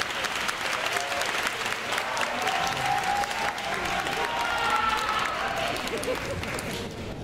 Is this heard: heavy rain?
no